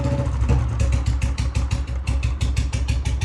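Royal Enfield Bullet motorcycle fitted with a heavy sound exhaust kit, idling with a loud, deep, steady thumping beat close by, no talking.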